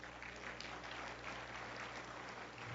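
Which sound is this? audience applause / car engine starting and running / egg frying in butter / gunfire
audience applause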